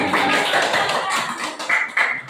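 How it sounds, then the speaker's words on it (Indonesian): Classroom applause during a lesson, a dense wash of many hands clapping together, moderately loud and steady for a couple of seconds, with a few sharper claps near the end. "Kita kasih tepuk tangan dulu."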